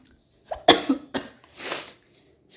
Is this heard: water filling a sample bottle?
no